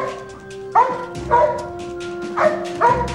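A dog barks in a show setting: four loud, close, sharp barks at roughly even intervals over a steady tonal background hum.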